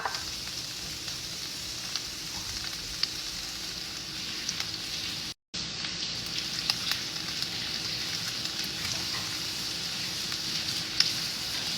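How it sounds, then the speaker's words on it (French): Tomatoes sizzle as they grill in a pan alongside meatballs, a steady, loud crackling hiss of frying throughout, briefly cut by a short dropout midway. "je vais les griller dans la casserole"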